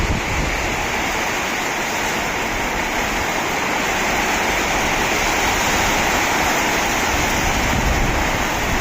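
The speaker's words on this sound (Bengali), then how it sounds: "দেখেন কি পরিমাণে ঝড় আর বৃষ্টি।" A storm of heavy rain and wind roars as a dense, unbroken hiss, loud and constant from start to finish, with no voices.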